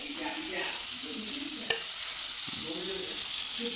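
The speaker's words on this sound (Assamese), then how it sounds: "মোৰ জানজনী আলু দিছে, চাব পাই আছে" Potatoes fry in a pan with a steady, close sizzle and hiss, a sharp clink near the middle, and soft stirring scrapes throughout, with no talking.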